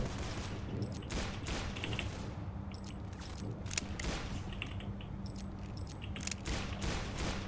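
Rapid bursts of gunfire from the Roblox shooter Arsenal, with repeated shots and clicks at steady close range over a constant game hum and no talking.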